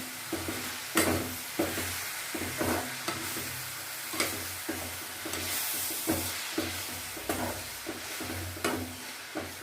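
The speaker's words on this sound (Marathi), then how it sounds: "ते आपल्याला चांगल्या प्रकारे हलवून घेऊ आपण मिक्स करून घेऊ" Methi besan bhaji being stirred and mixed in a pan, with a steady soft sizzle under repeated scraping strokes of the spoon at a regular rhythm, close and moderately loud with no voices.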